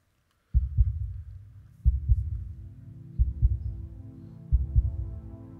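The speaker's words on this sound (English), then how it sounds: "Heartbeat." A heartbeat thumps four times, each beat a close, loud lub-dub pair about 1.3 seconds apart, heard alone against quiet.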